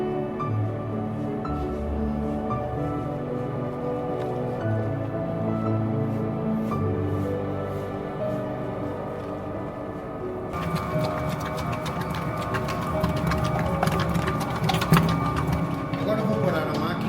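A stand mixer kneads a firm, moist dough on first speed as butter is worked in, giving a steady mechanical whir with a rhythmic knocking churn that turns busier and brighter partway through.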